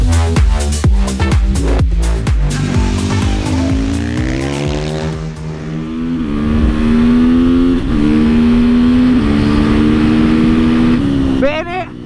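A KTM 450SM supermoto with an aluminium frame accelerates on a track. The single-cylinder engine revs hard through quick gear changes, then holds a loud, rising drone close by.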